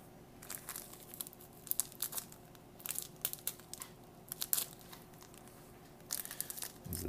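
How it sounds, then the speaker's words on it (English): Black tea bag from a Russian military 24-hour ration being handled and opened, with soft crinkling and rustling of packaging in quiet, irregular bursts close by. "This is black tea. And it feels like a bag. I'm going to be very careful not to rip the bag"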